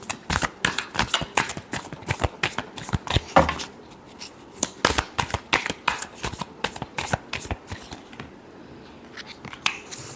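A deck of tarot cards is shuffled by hand in quick riffling bursts, crisp close slaps and flutters repeating through the stretch, fainter near the end, with no voice heard.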